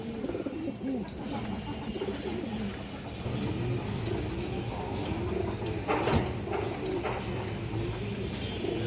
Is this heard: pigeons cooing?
yes